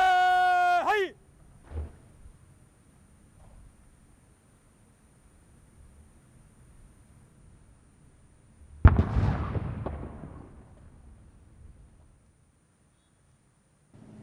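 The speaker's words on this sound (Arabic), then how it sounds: "وقد أطلقت المدفعية الآن طلقة واحدة لإعلان دقيقة صمت" A single artillery cannon shot fired in Bahrain to announce a minute of silence lands as one loud, sharp blast partway through, followed by a decaying rumble and then near silence; a brief tonal signal sounds at the start.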